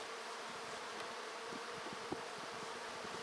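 Honeybees swarm around a hive in a backyard bee yard, their buzzing a steady, dense drone that fills the whole stretch with only faint ticks and knocks underneath.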